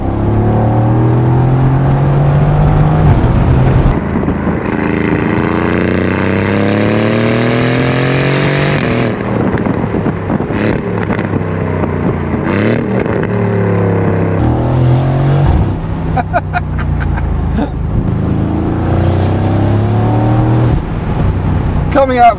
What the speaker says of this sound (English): you just get that wonderful rumbly V8 noise.